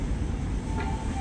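A commuter train rumbles at Gondangdia station in Jakarta, a steady low rolling roar of wheels and carriages close by, with a faint tone briefly rising over it.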